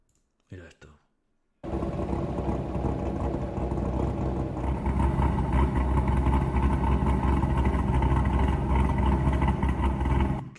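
A car engine idles steadily and loud for most of the clip, the low rumble starting after a brief pause, with a Dodge Viper RT/10 from 1992 mentioned in the talk around.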